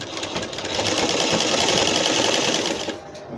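A sewing machine stitches a fabric hijab cap, running fast and continuous with a dense, even mechanical whir that stops near the end.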